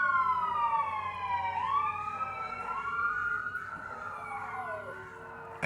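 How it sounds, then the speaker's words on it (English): Emergency vehicle sirens wail and sweep up and down in pitch as they pass. They are moderately distant, with overlapping tones over a low traffic rumble, and nobody speaks. "And now sirens"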